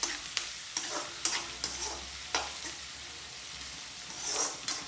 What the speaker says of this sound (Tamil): வெங்காயம் நல்லா வதங்க வேண்டியது இல்லை ஒரு அளவு வதங்கினா காணும்